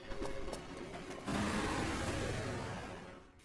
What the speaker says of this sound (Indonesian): tiba-tiba sebuah mobil datang menabraknya, yang kemudian langsung kabur dari sana